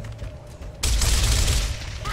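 Pistol gunfire in the Gears of War 2 video game: a dense, loud burst of game shooting and explosive noise kicks in abruptly and rolls on continuously, with talk faintly beneath.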